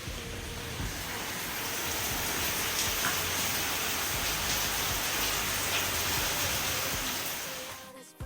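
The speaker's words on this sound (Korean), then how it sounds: "비가 오면 빗물이 자갈이랑 부딪혀서 소리가 나는데" Rain falling on gravel just outside a hotel bathroom in Phu Quoc, a steady dense hiss of patter that holds evenly for several seconds before trailing off.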